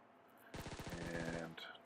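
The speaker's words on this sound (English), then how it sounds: "got some gunshots" Rapid automatic gunfire in the PUBG Mobile video game, a burst of about a dozen quick shots lasting around a second, fairly faint, followed by a brief higher tone.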